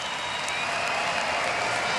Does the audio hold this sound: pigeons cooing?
no